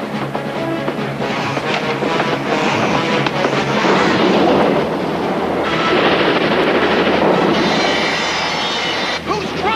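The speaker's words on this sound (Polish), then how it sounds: "Kto prowadzi tę lokomotywę?" A cartoon locomotive train runs with a loud, continuous rumble and rattle, the noise swelling and shifting over about ten seconds.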